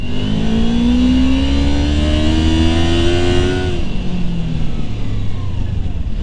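A Kawasaki Ninja 250 engine sounds up close while being ridden, pitch climbing steadily under acceleration before easing off and settling into a lower drone, loud and continuous with no talking.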